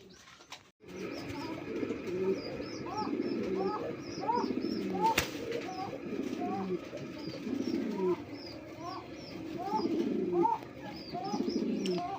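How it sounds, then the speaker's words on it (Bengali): A pair of pigeons, a female and a long-necked beauty-breed male, coo in repeated soft, throaty rolling phrases close by, with faint chirps and a low background murmur. "বন্ধুরা এখানে একজোড়া বিউটি কবুতর আছে"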